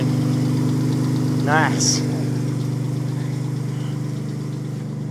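A turbocharged Hyundai Tiburon engine idles steadily and loudly nearby with a constant low rumble throughout, while a person briefly speaks over it.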